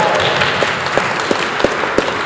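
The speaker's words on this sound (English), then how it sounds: "Give them a round of applause." A church congregation applauds the Judson Choir after a Magnificat at a Sunday service, a dense, loud wash of many hands with a few sharper individual claps standing out.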